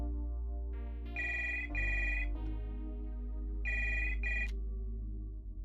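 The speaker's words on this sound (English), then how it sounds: "I dial my sister's phone." A telephone rings in a video game, a steady electronic ring repeating in two bursts over a constant low hum, close and clear with no voices.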